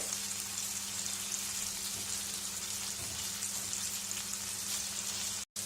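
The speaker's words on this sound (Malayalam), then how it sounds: "നമ്മളൊരു 5 മിനിറ്റ് ഫ്രൈ ചെയ്തെടുത്തിട്ടുണ്ട് ബട്ടറിൽ" Chicken pieces frying in butter in a pan give a constant, soft, hissing sizzle with light crackles, steady and fairly quiet, with a brief dropout near the end and no voices.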